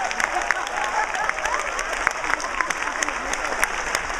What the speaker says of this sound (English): we're going to express our love one more time, wrapped up in this big giant round of applause for all of you right now